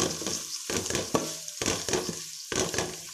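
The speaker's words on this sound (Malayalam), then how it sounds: "നമുക്ക് ഇനിയും നമ്മുടെ ക്യാബേജ് അരിഞ്ഞ് വെച്ചേക്കണ ഇടാം. പിന്നെ നല്ലപോലെ ഇളക്കി" Chopped cabbage for a sadya-style thoran is stirred as it fries in a pan, with bursts of scraping and sizzling in a loose rhythm, close by and without voices.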